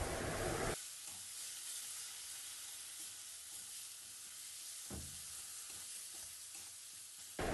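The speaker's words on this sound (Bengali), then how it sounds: "দিয়ে মশলাটাকে ভালো করে কষিয়ে নেব" Spice paste of turmeric, chili, coriander and cumin frying and being stirred in a pan, a steady close broadband sizzle with scraping strokes around the fifth second, no voices.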